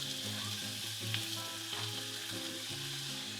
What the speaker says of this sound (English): I'm just gonna put some olive oil in my pan. That's nice and hot already, so I'm gonna add